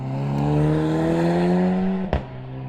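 A motorcycle engine, a compromise-type bike, starts and runs close by at a steady idle, then rises slightly and cuts off with a sharp clack near the end, with a car's engine note blending in.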